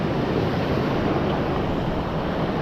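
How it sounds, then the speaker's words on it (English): Water pours over a small waterfall near a lake in a steady, dense rushing roar, close and loud, unbroken throughout, with no voices. "Right at the top of that little waterfall."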